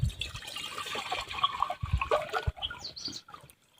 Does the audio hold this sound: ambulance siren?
no